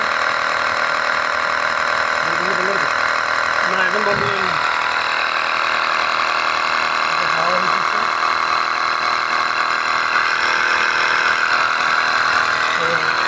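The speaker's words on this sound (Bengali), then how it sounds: "মেশিনটা চালু করলাম আপনারা দেখেন আওয়াজ করতেছে মেশিনের থেকে আওয়াজ করতেছে" A portable car tyre inflator running with a continuous, even mechanical drone and buzz, close and steady throughout, while someone speaks briefly over it.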